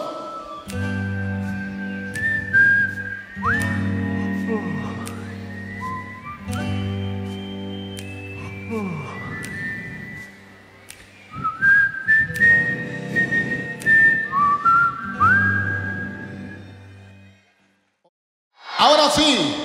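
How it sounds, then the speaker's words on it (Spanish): Many voices of a live concert audience whistle a cheerful tune together over a repeating musical backing, melodic and sustained, ending with a brief pause before a short burst of sound. "¡Todos silbando!"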